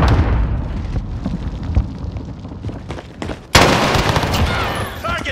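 Continuous gunfire in Modern Warfare multiplayer, a steady stream of shots capped by a sharp, loud grenade blast partway through, followed by more shooting.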